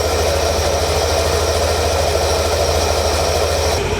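A Yamaha Nmax scooter engine idles steadily with its CVT fitted with a 1000 rpm center spring, a continuous close, loud low hum and drone that stays even throughout, with no talking.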